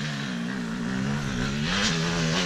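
Motorcycle engine revving hard on a run-up for a jump over a road on private property, a close, loud, sustained buzzing drone whose pitch wavers and climbs as the throttle opens.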